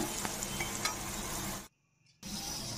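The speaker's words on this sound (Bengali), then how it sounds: "এটি দিয়ে দিচ্ছি এখন সজনে ডাঁটাগুলি। এটি আরও 2 মিনিট আমি সাঁতলে নেব" Potatoes and drumsticks sautéing in a pan, an even frying sizzle with a few light stirring taps, close up, dropping to near silence for a moment before the sizzle resumes.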